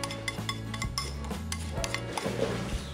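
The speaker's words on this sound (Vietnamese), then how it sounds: "Sau đó chúng ta cho cái hỗn hợp gia vị vào, chúng ta sẽ trộn đều lên." Cow hide salad being tossed with a spice mixture in a bowl, giving a close, busy run of clinks and scrapes from utensils against the dish over a low rumbling backdrop.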